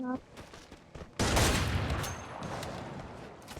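A burst of rapid gunfire erupts in the video game Free Fire, dense and loud, continuing as a rattling volley after a brief quieter lead-in with faint talk.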